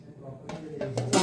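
A metal lid set onto a pot of village-style pavta bean, potato and brinjal curry, giving a short close clatter and clink of metal that lasts about a second.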